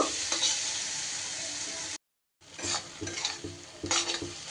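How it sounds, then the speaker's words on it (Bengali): Masala with tomatoes sizzles as it is sautéed and stirred in a pan for a fish roe curry, a steady close frying hiss with scraping stirs, briefly cut silent midway before the sizzling resumes. "যেহেতু মশলাটা দিয়েছি পোড়া লেগে যাবে একটু জল না দিলে সুন্দর করে একটু কষিয়ে নেব"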